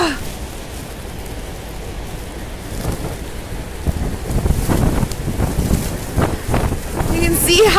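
Strong wind buffets a Niagara cruise boat as it moves into the Horseshoe Falls, a steady broadband roar with rising gusts and bursts of talk from people on board.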